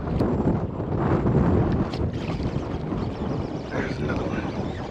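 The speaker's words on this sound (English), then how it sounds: "Guys, sorry about the wind" Strong wind gusts across a kayak out at sea in stormy weather, buffeting the microphone in a steady, loud roar with rushing water beneath it and no clear pauses.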